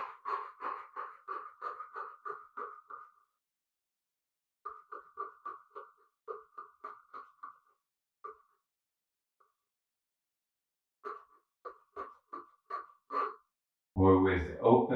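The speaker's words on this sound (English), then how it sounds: "We will be breathing in and out through the mouth" Rapid breathing in and out through the mouth during a movement and breathing practice, quick rhythmic puffs in bursts separated by short pauses, close and clear, ending in a louder, harsher breath.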